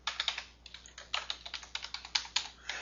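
Rapid typing on a computer keyboard while entering a field name in a FilePro database screen, a close, steady run of sharp key clicks with brief pauses between bursts.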